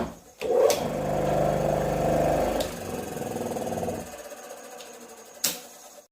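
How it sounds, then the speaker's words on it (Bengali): Electric motor missing its starting coil, switched on and humming loudly without spinning up, then cut off, leaving a faint click and a later sharp tap. "সুইচ দেওয়া মাত্রই অনেক বেশি কারেন্ট গ্রহণ করছে, কারণ হচ্ছে মোটরটি স্টার্টিং কয়েল নাই এবং স্টার্ট করতে পারছে না।"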